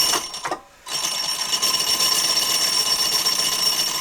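A home sewing machine stitches a seam at close range after a brief pause, running as a steady, even mechanical whir with a rapid needle rhythm until the end.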